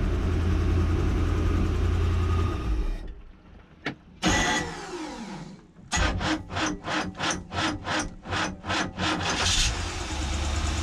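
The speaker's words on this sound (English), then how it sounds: "We got them to where they'll crank real easy, shut them off, and they'll crank right back up." Boat motors cranking over and starting: a loud running engine cuts out, then a starter whirs in a fast rhythmic series of cranks before the motor catches and runs again, close by with no talking.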